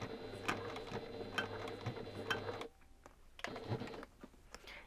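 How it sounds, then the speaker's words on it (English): Sewing machine stitching small stitches on a pouch bag, a rapid rhythmic mechanical whir that runs for a few seconds, stops briefly, then resumes in short bursts, close and fairly quiet. "I'm going to continue with those small stitches to the bottom"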